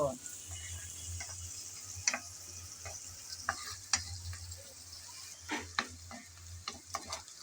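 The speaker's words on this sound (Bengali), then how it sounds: "কিছুক্ষণ নেড়ে চেড়ে ভেজে নিলাম পেঁয়াজ হালকা ব্রাউন কালার করে।" Chopped onions fry quietly in a pan while being stirred, with a soft sizzle under scattered scraping stirs that come at uneven moments, close but faint.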